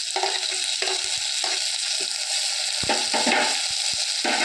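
Ground tomato going into frying onions, a loud, steady sizzle with constant stirring and scraping in the pan and a few sharp clicks of the spoon against metal, close up with no talking.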